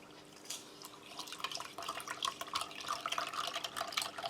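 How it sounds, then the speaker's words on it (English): Water trickling and dripping into a drink container of purple blackcurrant powder from a 2013 British Army 24-hour ration pack, a faint, irregular splashing that grows busier as it fills, with no voices. "we'll just fill this up with water."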